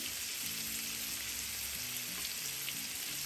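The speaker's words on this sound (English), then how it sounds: "Once the oil is warmed up, go ahead and add all bittergaurd pieces." Bitter gourd pieces frying in warmed oil with turmeric for a spicy karela dish, a constant dense sizzle and crackle close up, with faint low tonal hums underneath and no voices.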